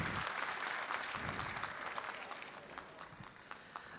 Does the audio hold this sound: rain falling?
no